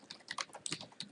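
Keystrokes on a computer keyboard as a Linux update command is typed, a quick irregular run of soft clicks and taps close by, with no talking.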